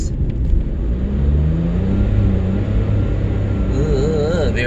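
A rental Nissan Micra with a CVT pulls away from a standstill up a steep hill, giving a steady droning engine hum with a rising whine that stays on one pitch, heard from inside the car along with some voice sounds.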